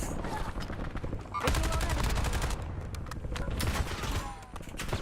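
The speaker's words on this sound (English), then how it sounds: "where are we getting shot from?" Sustained automatic gunfire in the video game Warzone, rapid close bursts of shots layered with distant fire, loud and dense throughout, with voices talking over it.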